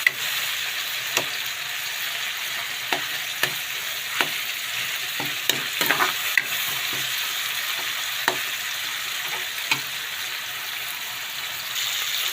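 Pechay and shrimp fry in a pan with a constant bright sizzle, broken by scattered taps and scrapes as a utensil stirs the mixture.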